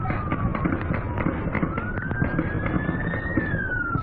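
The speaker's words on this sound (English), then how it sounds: "What sounds like fireworks is a firefight." Rapid bursts of gunfire from a police shootout with an SUV, recorded on a phone, pop sharply, many shots in quick succession, while a siren wails steadily throughout.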